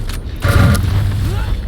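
Railgun shot in a Quake-style arena duel video game, a single loud booming discharge with a ringing, swept tail, heard over game ambience.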